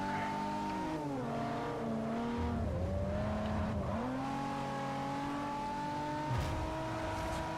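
A race car engine in Forza Motorsport 4 revs hard, its pitch climbing and dropping through gear changes in a continuous, loud, close drone with no talking.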